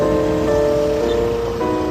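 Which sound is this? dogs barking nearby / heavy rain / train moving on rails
heavy rain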